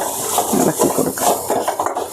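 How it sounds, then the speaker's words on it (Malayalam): Mango curry being stirred in a pan, a steady run of soft scraping and wet shuffling strokes, close and fairly loud with no talk. "ഇളക്കി കൊടുക്കാം"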